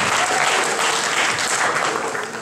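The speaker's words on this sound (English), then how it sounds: "So let's please give it a round of applause for Clayton." A live audience applauds for Clayton Geathers, a Carvers Bay alumnus and future NFL player, with dense, steady clapping filling the whole stretch before tapering slightly at the end.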